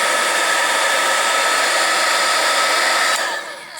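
A heat gun blows steadily and loudly while it heats Stampin' Up satin ribbon to curl it into a flower, a constant hissing whoosh that stays close and unbroken, then drops off at the end as it is switched off.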